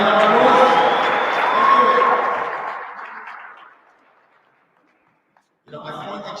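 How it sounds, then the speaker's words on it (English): Applause from a business workshop audience, a full burst of clapping and some cheering that thins and fades away into silence, after which a voice starts talking. "Let's give them another round of applause."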